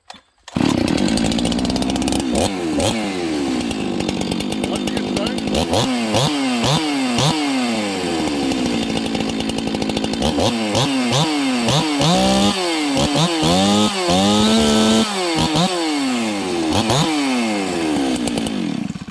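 A stock original Husqvarna 372XP chainsaw runs loud and close while bucking spruce. The engine idles, then revs up and down again and again, rising into the high-pitched whine of cutting. No talk is heard.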